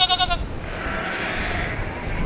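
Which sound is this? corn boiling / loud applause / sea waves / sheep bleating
sheep bleating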